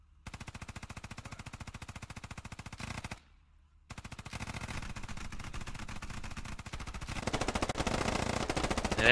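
SAW machine gun fire in the Squad video game rattles in long sustained bursts, a dense rapid stream of shots broken by one short pause, growing louder and harsher toward the end.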